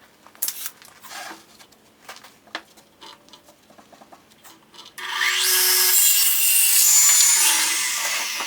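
Wooden 1x4 boards being cut for an Adirondack chair: several seconds of scraping and knocking as the wood is handled, then a loud, steady saw roar that continues to the end.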